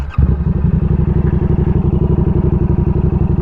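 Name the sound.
motorcycle engine starting up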